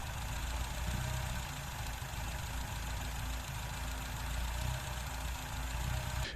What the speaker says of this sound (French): essayer d'obtenir un ralenti stable aux alentours de 850-900 tours minute